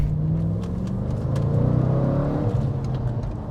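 An Audi RS4 on a road test drive, its engine rumbling and revving steadily with continuous tyre and road roar close by, rising slightly in pitch midway.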